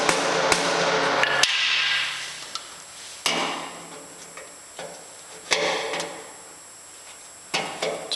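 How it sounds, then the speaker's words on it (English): Copper drive rivets hammered out from inside a cabinet during reassembly of an American Pacemaker lathe: a handful of sharp metallic taps with pauses between them, fairly close, with no talk over them. "copper drive rivets, really tiny, but they're going through into the cabinet, so you can just hammer them out"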